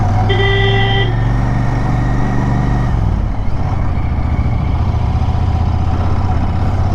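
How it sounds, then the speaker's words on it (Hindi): A wedding party vehicle's horn blares in a sustained tone for a few seconds over a steady engine rumble, then the motor noise continues alone. "तो हॉर्न बजा रहा है"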